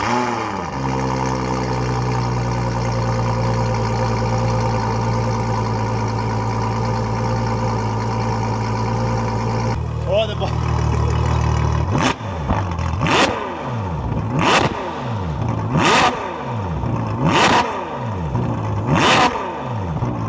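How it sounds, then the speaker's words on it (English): Ferrari 812 Superfast with exhaust valves deleted: a loud, close V12 settles from startup into a steady high idle, then fires off a series of sharp, rising revs with quick drops between them. "Now the car increases in sound as you increase the RPM of the vehicle."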